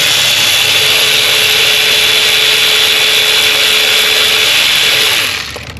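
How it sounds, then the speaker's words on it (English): Electric ratchet with a 10 mm swivel socket working bolts loose on a 2007 Lexus ES 350 engine during coil replacement; a steady, loud mechanical whir runs continuously for several seconds, then cuts off near the end. "My electric ratchet."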